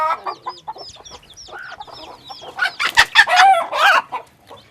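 Chickens, African breeds kept on a poultry farm in northern Côte d'Ivoire, cluck in quick repeated bursts up close, then a rooster crows loudly over them near the end.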